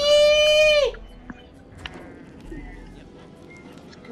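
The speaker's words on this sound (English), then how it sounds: "Cool sheep." Sheep bleating in the video game Fortnite, a loud, clear bleat with a falling pitch that ends after about a second, followed by quieter game noise.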